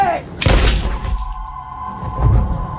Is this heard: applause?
no